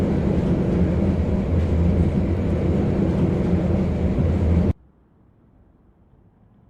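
A tram pulling away in a Vienna tram simulator game, with a steady, loud rumbling drone and low motor hum holding for several seconds before cutting off abruptly into near silence.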